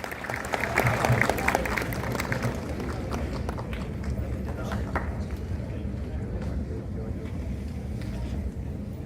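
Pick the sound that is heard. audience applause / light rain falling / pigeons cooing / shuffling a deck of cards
audience applause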